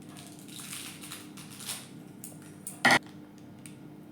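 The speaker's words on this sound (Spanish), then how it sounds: "Vamos a coger nuestra bandeja, vamos a quitarle la punta" A metal baking tray used for chocolate cookies gives one brief, sharp clatter as it is picked up, close by after faint handling rustles in a quiet kitchen.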